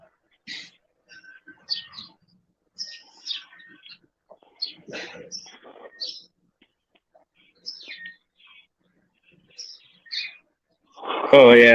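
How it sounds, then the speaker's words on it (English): A child's beeping toy machine chirps in short, bright bursts scattered across a quiet room, with a louder sound right at the end. "My kid's beeping machine is extra chirpy today."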